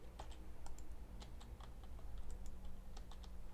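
Rapid clicking of computer keys, close and crisp, typed in quick uneven bursts with no voices.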